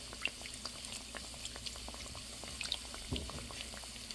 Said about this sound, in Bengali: এভাবে আমি আস্তে আস্তে ভেজে নেব